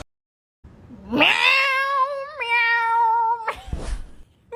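A cat lets out one long, loud meow up close, rising at first and then holding steady for about three seconds before breaking off, followed by a brief noisy scuffle.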